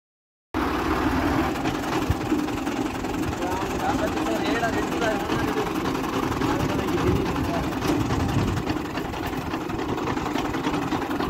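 Fiat 480 tractor powering a wheat thresher, a steady continuous engine drone with mechanical rattle, loud and unbroken from start to finish, with a voice talking over it.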